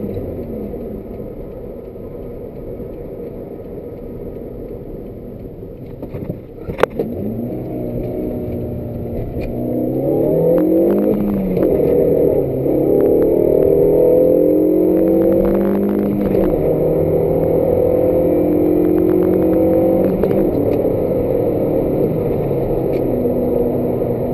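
A 2005 Suzuki Ignis Sport with the M15A 1.5L engine revving as it merges onto a highway, heard from inside the cabin: steady road rumble, then the engine note climbing and holding loud through repeated rising pulls.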